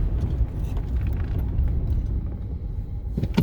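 A Ford F-150 pickup (2009–2014) drives at around 45 mph ahead of a heavy braking test, giving a steady, loud low road and engine rumble from inside the cab with a brief louder surge near the end.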